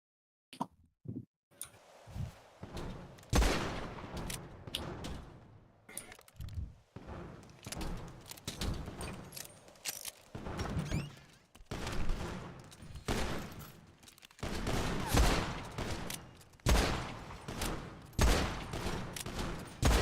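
Guns fire in a GTA roleplay game with a Roxwood and Brugwood island setting, cracking in scattered single shots and short clustered volleys across the whole stretch, some loud and close, with no talk during the firing.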